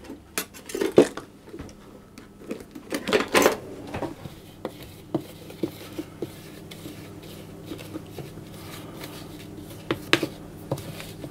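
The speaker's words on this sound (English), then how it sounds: "I'm just going to scrape the sides of the bowl a little bit." Spatula scraping the sides of a mixing bowl of Abernethy biscuit dough, a series of soft scrapes and light clinks against the bowl, close and fairly quiet, with a few sharper knocks.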